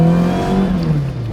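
Alfaholics GTA-R 290 twin-spark engine revs hard in a loud, throaty burst, its pitch climbing and then easing back over a little over a second, heard close with no talking.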